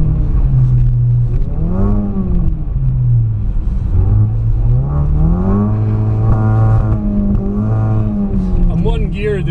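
Ford Focus RS engine revving hard in first gear while drifting sideways on snow, a loud, close, wavering roar that rises and falls repeatedly, with voices talking over it.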